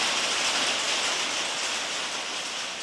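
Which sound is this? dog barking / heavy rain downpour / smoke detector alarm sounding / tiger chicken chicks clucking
heavy rain downpour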